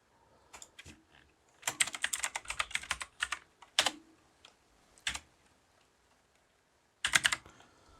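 Quick bursts of close keystrokes on a computer keyboard, clustered clicks separated by short pauses, ending with a firm final tap.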